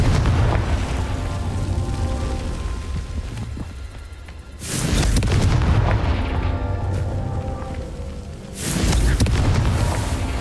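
Confringo blasting spell from Hogwarts Legacy, two deep booming explosions with rumbling tails over a loud, dense game soundscape, each blast hitting hard and close.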